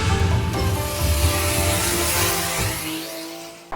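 Mazda RX-7 FD sports car driving on an open road trip, a steady loud engine drone and road rumble running throughout, easing slightly toward the end.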